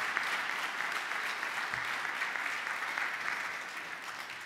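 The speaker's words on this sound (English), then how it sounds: "Let's give them a round of applause." A crowd claps at a Christmas concert in St. Oliver's church, a full, steady round of applause from many hands, close and fairly loud, holding evenly for several seconds with no voices on top.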